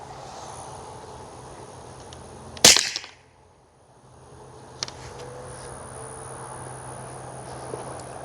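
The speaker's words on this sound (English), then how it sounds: "Another 3 rounds. Subsonic suppressed with a suppressor." One suppressed subsonic rifle shot through an Anechoic X22 suppressor cracks sharply and briefly over steady insect-like background hiss, followed by a fainter click a couple of seconds later.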